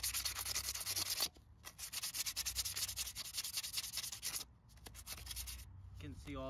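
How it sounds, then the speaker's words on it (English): Close, rapid scratchy strokes of sandpaper rubbing rust off metal parts of a 15hp Yard Machine riding lawn mower, in bursts with short pauses between them. "I'm just gonna hit that with some sandpaper, clean that surface, clean that one"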